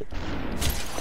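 Gunshots in the video game Superhot: a muffled, rumbling low burst, then a sharper crack of gunfire partway through the short stretch.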